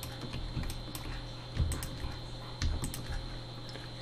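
Soft clicking of a computer keyboard and mouse during 3D modelling work in Blender, a quiet irregular patter of key and button presses with a couple of slightly heavier taps, no talk.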